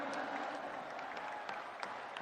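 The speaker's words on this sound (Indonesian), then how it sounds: "Tepuk tangan sekali untuk Bapak Anies Baswedan." Crowd applause at an outdoor NasDem party rally for a presidential candidate, a broad, fairly distant wash of clapping with a few sharper claps standing out.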